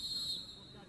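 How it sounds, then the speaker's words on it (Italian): Referee's whistle at a Serie A2 futsal match, one short, shrill blast in the first half second over faint arena murmur. "arriva il fischio dell'arbitro"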